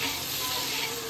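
Onions sizzling and frying in a hot pan while being stirred, a dense, continuous close crackle and hiss with no break.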